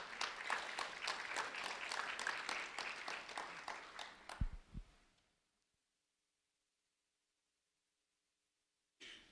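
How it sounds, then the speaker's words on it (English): Applause from an audience honoring a first grade student at a sheriff's office recognition event, brisk rhythmic clapping for about five seconds that fades out into near silence, followed by a faint low sound at the very end. "a round of applause for Airiam Perez, please"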